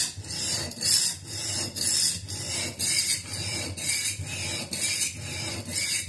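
An S390 steel knife blade at 67 HRC ground on a coarse 40-grit ceramic belt of a belt grinder, a loud close rasping hiss swelling and fading in regular passes about every half second.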